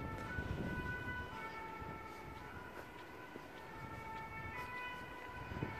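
Emergency vehicle sirens wailing at a distance through a town street in France, steady tonal whine over continuous low traffic rumble for several seconds, with no talking.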